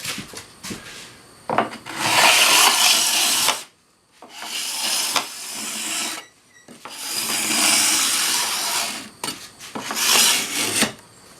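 A glued wooden track saw guide is sanded smooth in several long passes, each a loud, close, rough rasping burst of a few seconds separated by short quiet gaps.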